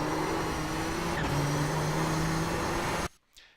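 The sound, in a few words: Nissan GTP ZX-T race car engine at full throttle, iRacing video game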